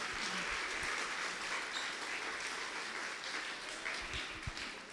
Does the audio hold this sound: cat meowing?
no